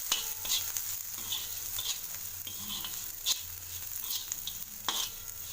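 Steady frying sizzle of ridge gourd in a pan with turmeric, with scraping stirs and light utensil clinks, close and continuous throughout.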